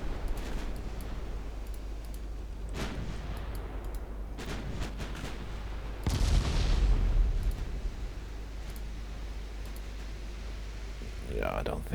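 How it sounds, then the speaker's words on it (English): Warship guns firing in the naval strategy game Ultimate Admiral Dreadnoughts, booming salvos over a constant low rumble, with a heavier, louder blast cluster around the middle and someone talking over the battle. "All my ships are firing. They're already hitting."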